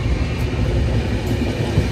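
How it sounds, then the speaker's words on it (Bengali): An express train pulling away from Chandannagar station, heard as a loud, continuous low rumble and rattle of the moving carriages, with no speech. "ট্রেনটা চন্দননগর ছেড়ে এগিয়ে যাচ্ছে সামনের দিকে"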